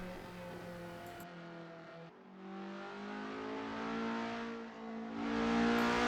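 An Alfa Giulia's engine hums steadily in a driving video game while cruising through Prague, with sustained engine tones that rise and shift gently, moderately loud and continuous, with no talking.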